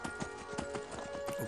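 Horse hooves in Skyrim clip-clop in a steady, quick rhythm of close, clear beats over a constant tonal hum, with no other sounds mixed in.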